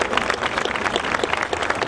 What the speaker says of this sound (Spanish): le damos un fuerte cariñoso aplauso